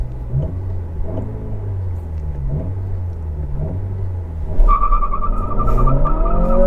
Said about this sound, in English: that was still plenty of torque to light up the tires